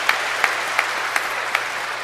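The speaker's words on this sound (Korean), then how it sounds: "그리고 5월 주일반은 이명희 안젤라 수녀님 위해서도 박수 부탁드립니다." A church congregation applauds for a nun at a baptism ceremony, with steady clapping from many people in a reverberant hall and a few louder claps standing out at regular intervals.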